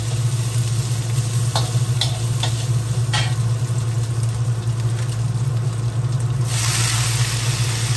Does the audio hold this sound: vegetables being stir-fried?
yes